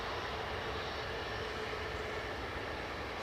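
A Scandinavian airliner departing Edinburgh airport roars with a steady, broad engine rush, distant but continuous, with no other sounds over it.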